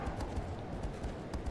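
Rhythmic hoof clip-clop of a horse galloping across open terrain in the video game Shadow of the Colossus, a steady running beat heard alone at moderate level.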